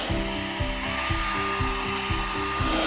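A Lefant M320 robot vacuum and mop combo runs close by with a loud, steady whirring motor hum and a pulsing, rhythmic tone, no talking.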